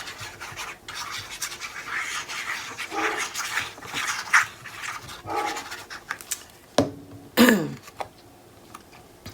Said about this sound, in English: I apologize for the dog barking in the background